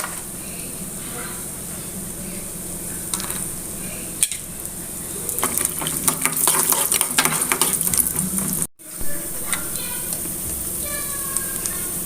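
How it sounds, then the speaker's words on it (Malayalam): Cashews fry in ghee in a pan as part of making Kerala adapradhaman, giving a bright crackling sizzle that swells in the middle, with a spoon scraping and stirring against the pan and a short pause near the end. "ഇനി നമുക്ക് നെയ്യിൽ അണ്ടിപ്പരിപ്പും മുന്തിരിങ്ങയും വറുത്തിടാം."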